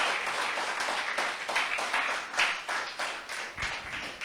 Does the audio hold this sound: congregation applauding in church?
yes